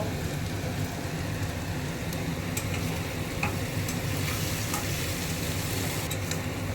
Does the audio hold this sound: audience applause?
no